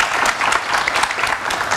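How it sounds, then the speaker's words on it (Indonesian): A studio audience at a televised political talk show applauds, giving dense, steady clapping throughout the short stretch with a hint of crowd noise. "Tepuk tangan yang meriah untuk narasumber saya, Sigit Widodo, Ketua DPP PSI."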